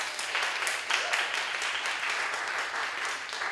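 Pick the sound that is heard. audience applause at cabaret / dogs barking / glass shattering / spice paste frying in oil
audience applause at cabaret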